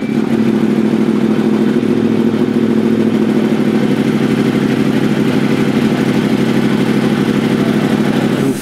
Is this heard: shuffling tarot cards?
no